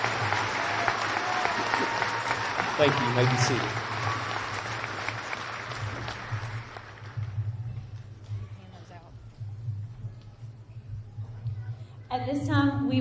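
Loud applause from a graduation audience honoring early high school graduates, dense clapping that fades out midway, after which a voice speaks over a public address system amid scattered crowd noise.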